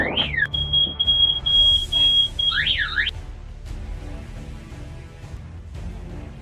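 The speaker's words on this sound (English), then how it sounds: "An uninvited visit woke the entire neighborhood with alarm bells." A neighborhood alarm goes off at night after a truck crashes: a piercing electronic siren sweeps and holds a high tone for about three seconds, then cuts out, leaving low rumbling and faint background noise.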